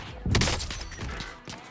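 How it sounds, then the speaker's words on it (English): An HDR sniper rifle fires in a shooter game, one sharp loud crack with a booming low body followed by a brief rumbling tail and a fainter thump shortly after. "Well, I was just sniped by an HDR."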